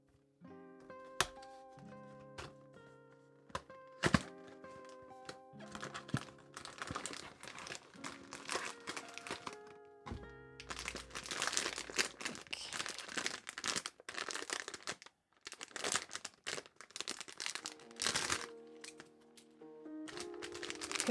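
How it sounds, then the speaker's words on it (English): Small card rattling and crinkling inside a Pop Mart Crybaby blind box during unboxing, with repeated sharp taps, rustles and papery crackles spread across the stretch, loud and close, no talking. "Oh, that card is a bit rattly."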